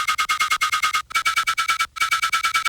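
A Serum 2 synth percussive lead plays a rapid, evenly pulsed pattern with a bright sustained whistle tone on top, in three short phrases separated by brief gaps, loud and clean.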